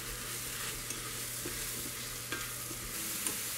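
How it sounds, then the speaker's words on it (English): Mushrooms sauté in an Instant Pot, a steady, soft sizzle with occasional faint stirring taps and scrapes, no talking. "gonna stir this up and just saute the mushrooms for, I don't know, a couple minutes"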